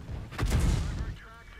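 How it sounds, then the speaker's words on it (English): In the tank game World of Tanks, an enemy artillery shell strikes the player's tank with a single heavy, close boom and a rumbling, fading decay. "So that shot was from the enemy. So fair enough, enemy artillery's got me spotted."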